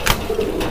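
A pigeon at a market selling breeds such as Bokhara and Magpie gives a short, close coo, a brief throaty call heard alone.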